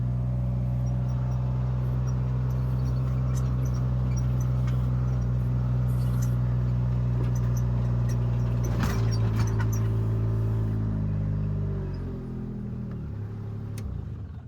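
A car engine hums steadily up close while driving on a farm outing, then the drone shifts and winds down as the car slows and parks near the end, with no voices.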